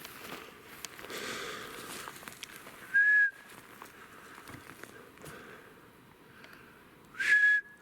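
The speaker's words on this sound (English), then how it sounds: "It's the only whistle I use here." A person whistles two short, sharp tones outdoors near fresh dirt piles on a sheep pasture, one at about three seconds and another near the end, over quiet rustling and light footsteps.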